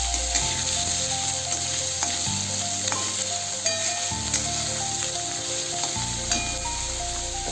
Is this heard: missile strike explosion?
no